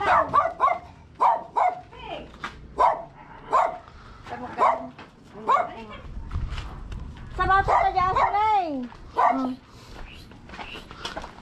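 A dog barks repeatedly in short sharp bursts, fairly close, while people talk nearby.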